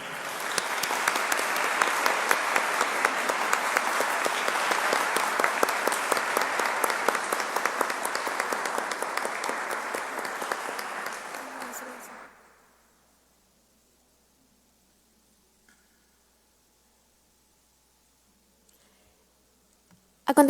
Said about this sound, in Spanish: a la audiencia les pedimos fuertes aplausos a ellos